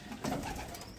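A large-bodied Tozeur pigeon gives a brief low coo, close and fairly soft, rising once over a faint background hiss.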